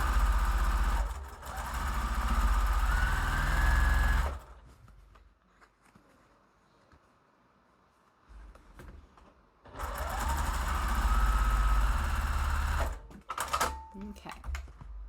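An electric sewing machine stitches an 8-point star quilt block in two long runs of steady motor whir, separated by a quiet pause with faint handling sounds, then a few short bursts of stitching at the end.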